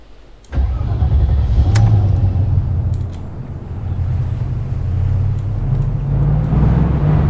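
A car engine turns over and catches, then settles into a steady, loud mid-pitched running drone that rises slightly as the vehicle pulls away, close by and with no talk over it.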